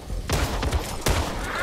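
Gunfire in the zombie shooter video game Back 4 Blood, a few loud, sharp shots in quick succession from a weapon held close, over a dense game background.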